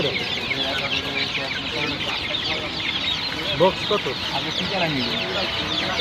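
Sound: chickens clucking at a poultry market

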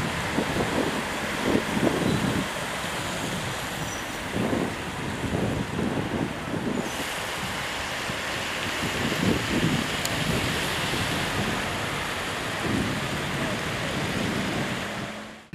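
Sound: strong wind during stormy weather in Durrës

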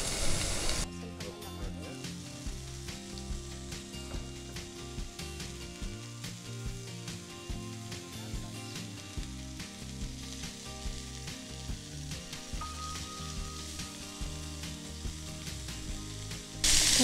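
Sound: chicken shallow frying in oil

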